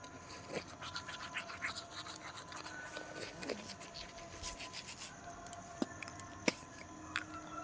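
Someone brushes their teeth on a cold winter morning, making close, faint scratchy scrubbing strokes with a few sharper clicks, over a soft steady background hum.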